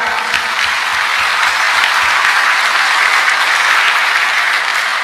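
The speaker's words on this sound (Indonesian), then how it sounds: "Tepuk tangan." Loud, sustained applause from a large audience at a national-unity talk with military and police, a dense, even roar of clapping that stays strong throughout.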